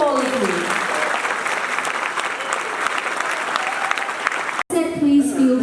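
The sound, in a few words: audience applause at World Ranger Congress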